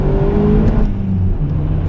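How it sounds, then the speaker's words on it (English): Vauxhall Astra VXR engine pulling hard in second gear on a road, a loud close drone with a falling pitch near the end, heard from inside the car. "Second gear pull"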